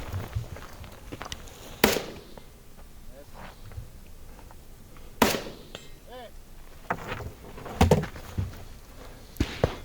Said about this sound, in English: I now need to reload and engage the same targets. 2 hits on the outside, drop the mag, 1 hit on the center